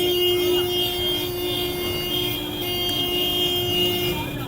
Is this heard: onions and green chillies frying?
no